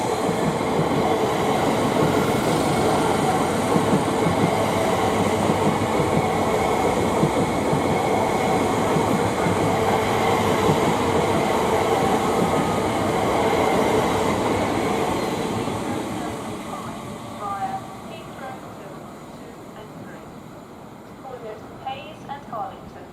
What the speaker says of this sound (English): here we've got a service from Reading to Abbey Wood, which I believe is meant to be not stopping here.